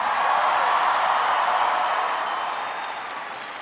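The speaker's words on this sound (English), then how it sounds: "Can everybody please give Camille a big round of applause for that introduction?" Sustained audience applause following a speaker's introduction at a Boise State University speech, a dense even wash of many hands clapping that stays loud and slowly eases toward the end, with no talk over it.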